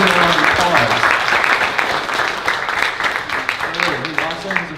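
An audience applauds through a convention's closing ceremony, a dense wash of clapping that stays loud before thinning slightly, with voices talking over it.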